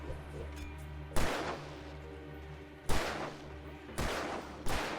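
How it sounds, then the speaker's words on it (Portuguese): Four sharp gunshots from the video game Alan Wake Remastered ring out at irregular intervals over a steady low musical drone, each blast loud and broadband with a brief tail. "Ele tá atirando?"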